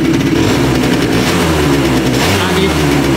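A rebuilt Kymco MXU-50 ATV engine with a new cylinder, piston, valve and fuel filter runs loud and steady close by, a continuous low drone with slight fluctuations in pitch.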